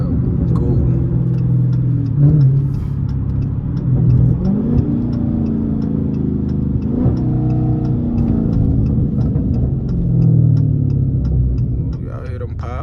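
A Dodge Challenger Scat Pack with stock exhaust rumbles loudly from inside while driving, with small pops and crackles from the exhaust breaking through the steady engine drone as the throttle rises and falls.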